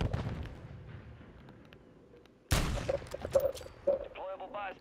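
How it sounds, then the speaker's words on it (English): A stun grenade goes off in a team shooter game: a sudden loud burst at mid-clip follows quieter game ambience, then ringing tones and gunfire-like bangs trail after it. Players talk over the action. "Throwing a stun grenade."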